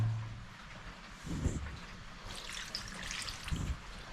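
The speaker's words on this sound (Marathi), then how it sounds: "आजीने वाटणाचा पाणी होता तो किरव्यांमध्ये टाकलाय" Ground masala water poured into black crabs in a pot over a wood-fired clay stove, a faint trickling splash in two short bursts against quiet background.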